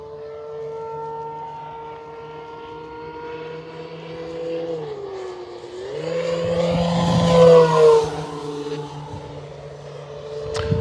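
An E-flite Carbon Z T-28 RC airplane passes overhead, its electric motor whining steadily and then sweeping up and down in pitch as it flies close by, loudest midway and fading a little afterward.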